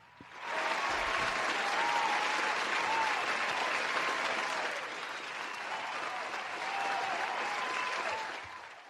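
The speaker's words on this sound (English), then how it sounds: "How did you manage to assemble that many people to clap for that?" A large audience applauding, dense sustained clapping that swells quickly, holds loud and steady, then dips slightly and continues before tapering at the end.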